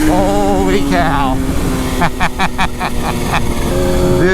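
A 2020 Kawasaki Z H2 motorcycle pulls hard, its engine note climbing in short rising sweeps up close over constant wind rush, with a few sharp bursts midway and a voice heard briefly at the start.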